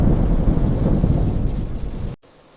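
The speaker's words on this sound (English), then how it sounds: "This is lightning, one of the most dramatic examples of natural electricity." Loud, deep rumbling thunder from a lightning storm rolls steadily for about two seconds, with rain hiss underneath, then cuts off abruptly into near silence.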